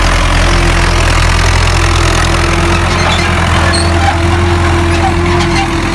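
A big tractor engine idles loud and close in a constant, even rumble with a steady low hum, running on without pause.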